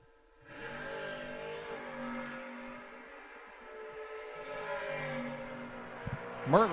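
Brian Merkel's Firebird drag car launches down the strip at an old-time drag race, a sustained, droning engine roar with steady tonal overtones heard from some distance, rising in pitch briefly near the end.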